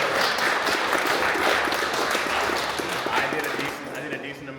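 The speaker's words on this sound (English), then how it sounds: "Can we get a round of applause to Evan and Craig?" A round of applause for Evan and Craig at an indoor competition match rises as dense, mixed clapping and crowd noise. It stays loud throughout and thins slightly near the end.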